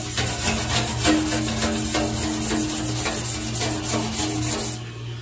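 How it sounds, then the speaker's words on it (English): Old coating being scraped off a bathtub with a hand tool, a steady rhythmic rasping and rubbing in repeated strokes, close and fairly loud, with a faint hum underneath and no talking. "So it does look like it's going to scrape off easy enough"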